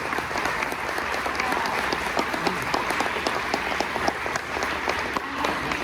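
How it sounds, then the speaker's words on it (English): An audience at a community philanthropy talk applauds a speaker with steady, dense clapping from many hands, holding an even level throughout. "Please give Kathleen a round of applause."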